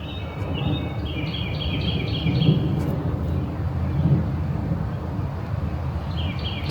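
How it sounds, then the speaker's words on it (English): Birds chirp in short repeated trills above a steady low rumble of wind and ambient noise, faint and somewhat distant. "You could hear the birds chirping."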